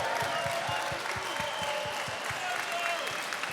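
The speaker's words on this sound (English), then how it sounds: "How about a round of applause for our veterans?" A live audience applauds veterans at a political event, with steady crowd clapping throughout, a faint voice beneath and a rhythmic low thump pulsing under the applause.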